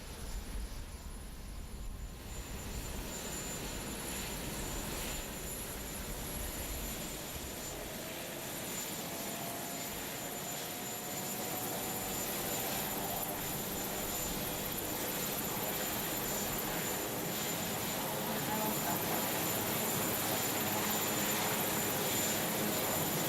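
Marine One, the presidential helicopter, holds a steady rotor and engine roar throughout, building slightly louder in the second half, with no voices.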